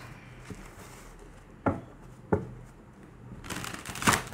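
Tarot cards are shuffled by hand: a few soft taps and slaps of the deck, then a dense, riffling burst of cards near the end, close and moderately loud.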